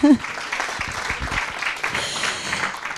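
An audience at a motivational talk on personal charisma claps together, a steady, even applause right after a short spoken word.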